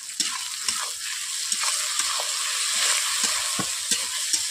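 Chopped tomatoes and onions frying with salt in a pan for Bengali rui macher jhal, a loud continuous sizzle with light periodic taps and scrapes of a spatula, no voices.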